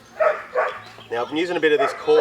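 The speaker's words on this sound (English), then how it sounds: "You can hear my dog in the background." A pet dog barks and yips in short bursts in the background outdoors at night, while someone talks in the foreground.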